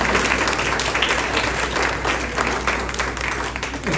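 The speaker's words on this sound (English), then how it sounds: "Round of applause." A room of residents at a Cypress Village community meeting breaks into a round of applause: loud, continuous clapping from many people that swells and eases slightly but never stops, with no voice on top.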